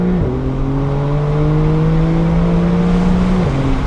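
A Porsche 911 at wide open throttle: one steady, loud engine note that drops briefly with a downshift, holds as it pulls hard, then shifts again near the end. No one speaks over it.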